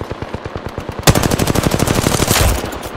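Rapid, sustained automatic gunfire from a Spitfire light machine gun in Apex Legends rattles in a fast steady rhythm, growing louder and denser partway through.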